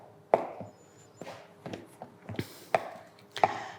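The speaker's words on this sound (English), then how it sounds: "I'm just chopping it again, because the heat of my hands will melt the butter." A knife chops cold butter into flour for scones on a board, making a handful of sharp, irregular taps spaced apart, close and clear with no talking.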